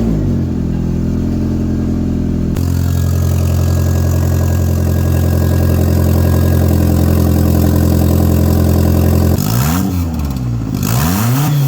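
A turbocharged 1.6 Mazda Miata engine idles loudly and evenly just after its first start, then gives a few quick throttle blips near the end, and the pitch rises and falls.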